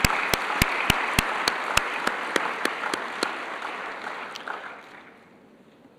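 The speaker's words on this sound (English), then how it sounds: "I want you to give them a round of applause." An audience at a health conference opening plenary applauds in a dense burst of clapping that gradually thins and fades toward the end.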